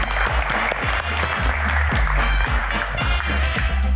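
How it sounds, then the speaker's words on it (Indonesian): Loud, dense applause from a talk-show studio audience welcoming a guest, sustained evenly with music or low rhythmic thumps underneath. "Tepuk tangan lagi untuk Pak"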